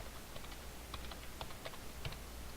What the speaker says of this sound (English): Just hit the enter key on your keyboard